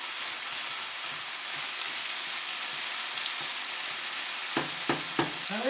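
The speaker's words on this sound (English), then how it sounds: "fry them up a little bit on the onions and the gingers and the garlic" Beef fries with onions, ginger and garlic in a hot pan, a constant close sizzle followed by a few scraping stirs near the end.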